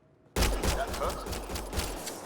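Rapid bursts of gunfire erupt suddenly and keep going in a dense, loud volley during a firefight in the sci-fi shooter Mass Effect Andromeda.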